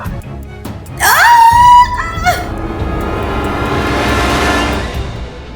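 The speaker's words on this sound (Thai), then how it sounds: "เสียงวีดวิว ของลม ดังเหมือนเสียงกรีดร้องของผู้หญิง" Eerie shrieking wind, like a woman screaming, rises abruptly in a wavering high-pitched wail, bends downward and cuts off, then gives way to a broad, steady rushing howl that swells and lingers for several seconds.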